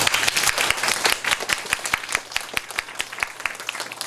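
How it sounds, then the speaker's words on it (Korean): Audience of students clapping for first-year debaters, the moderator and timekeepers at a school debate final, a steady loud round of applause with sharp individual claps throughout, no talk. "1학년 토론자 사회자에게 또 타임키퍼 군단에게 큰 박수 부탁드립니다"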